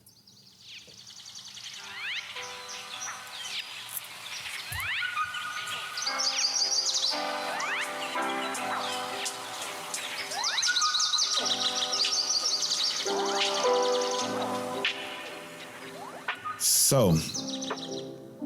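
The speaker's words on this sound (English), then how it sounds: "why don't we get the birds chirping?" Birdsong as a sound effect, with several birds chirping and tweeting continuously at moderate volume while someone talks over it.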